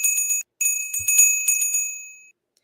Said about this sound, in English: Oh, this bell